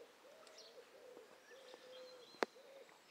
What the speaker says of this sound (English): Nice birds today, isn't it?